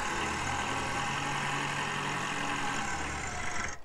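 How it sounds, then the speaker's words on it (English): In a video game, a tractor engine roars loud and steady while the tractor power-slides, holding a constant tone until it cuts off abruptly at the end. "Woo! Power sliding a tractor!"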